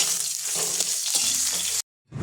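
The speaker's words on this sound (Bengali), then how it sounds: "এবার উচ্ছেগুলো আমি লাল করে ভেজে নেব।" Bitter gourd sizzles in hot oil in a wok, a loud, steady crackling hiss with occasional stirring scrapes, cut off abruptly before the frying resumes.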